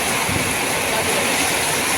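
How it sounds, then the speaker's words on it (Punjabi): Heavy rain pours down as a dense, steady wash of hiss that stays constant and close for the whole stretch, with no breaks or voices. "ਦੇਖੋ ਲੈ ਇਹ ਜ਼ੋਰ ਦਾ ਮੀਂਹ ਆ ਗਿਆ"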